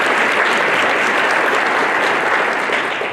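An audience at a chamber of commerce event claps for Owasso Public Schools, loud, dense and continuous, with no voices over it.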